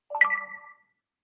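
A Messenger notification chime sounds once, a short bright rising tone that fades out quickly in quiet surroundings.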